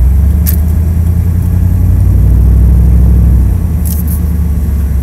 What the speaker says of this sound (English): Hear how we accelerate.